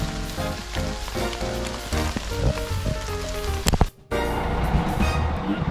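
Steady rain falls outdoors in Corsica, a dense sizzling hiss that holds for the whole stretch, with a few faint tonal sounds mixed in and a brief drop-out near the end.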